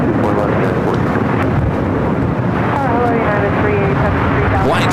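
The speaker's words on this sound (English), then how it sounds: "Dreamliner taking off to Tokyo Haneda" A Boeing 787 Dreamliner taking off at LAX for Tokyo Haneda, a loud, steady jet roar that fills the whole span, with a rising whine of engine tones under a voice speaking over it.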